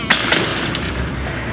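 A suppressed .22 rifle fires, giving a muffled thump followed by a faint metallic ting from the firing pin and then a steady low rumble.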